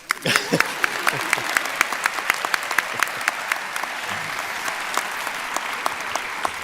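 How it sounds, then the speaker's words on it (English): Applause at a morning university undergraduate commencement ceremony, with a crowd clapping in a loose, uneven patter and individual sharp claps standing out, fairly close and continuing on its own without talk. "We can clap."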